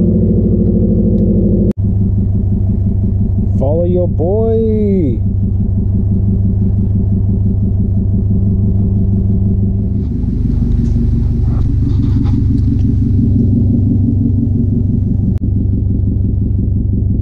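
A Subaru STI engine idles with a steady low rumble while warming up, while a voice speaks briefly early on and faint rattles come and go later.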